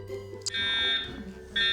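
A fire alarm sounds in a fashion design workroom, a loud, steady electronic tone that cuts out briefly and then starts again.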